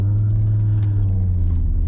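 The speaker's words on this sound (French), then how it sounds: "le premier truc qu'on note, c'est la présence du 5 cylindres" The 2.5-litre 20-valve five-cylinder of a Renault Safrane RXT pulls away from rest, a steady, close, low droning hum with a smooth, even engine note.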